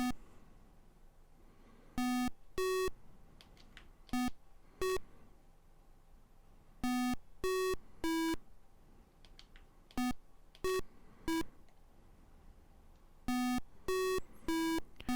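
Memory tones from the Atari 2600 game Brain Games play as short electronic beeps of different pitches, arriving in quick clusters of two to four separated by quiet pauses.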